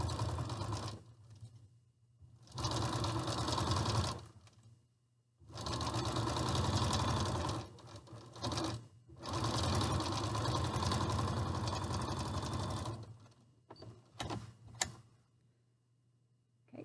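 Sewing machine stitching a hem on a gown sleeve, running in several sustained bursts of rapid, even whirring with short pauses between, close and clear, ending with a few brief stops and starts.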